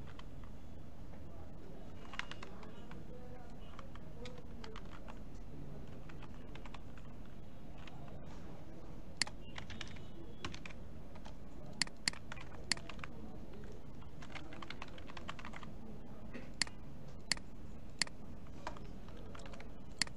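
A doctor's name is typed on a computer keyboard in a quiet room: faint, scattered key clicks over low background hum, with a few sharper taps standing out.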